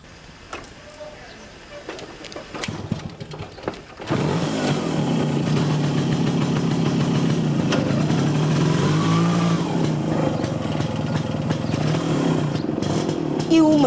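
A motorcycle engine roars into a loud, sustained run after a few seconds of quieter background sounds, holding a steady throttle for the rest of the stretch while voices talk faintly over it.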